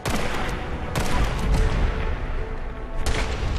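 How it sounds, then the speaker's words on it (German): Gunfire in the video game Fallout 4 comes as a dense, loud barrage of heavy shots and booms with a few distinct sharp blasts standing out. "dann schießen wir dir mal in die Seite"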